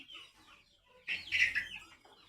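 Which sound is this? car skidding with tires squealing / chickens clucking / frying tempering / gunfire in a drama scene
chickens clucking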